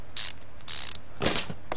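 Mechanical ratcheting bursts from a wrench removing screws in the car repair game Car Mechanic Simulator 2015, three or four short clicking spurts with brief pauses between, moderately loud and close.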